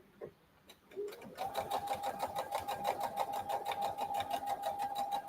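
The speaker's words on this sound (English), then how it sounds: "All right, so I'm going to sew this" A sewing machine runs steadily down the side of a scrappy potholder after a couple of brief clicks, its close, rhythmic mechanical whir continuing without interruption.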